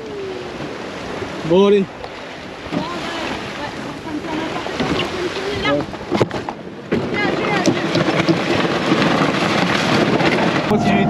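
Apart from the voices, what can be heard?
wind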